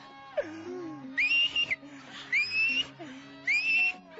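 In a comedy sketch, a person imitates a pressure cooker whistling while rice cooks, producing three shrill rising whistles in a steady rhythm over low background voices.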